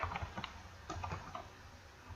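Quiet typing on a computer keyboard while a title is entered into a flyer design, with a short burst of soft key clicks at close range followed by a couple of scattered taps.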